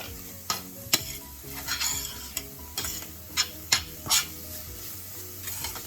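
Garlic powder and parsley flakes sautéing in oil for a Japanese curry, a steady low sizzle broken by a handful of sharp utensil scrapes and stirs against the pan.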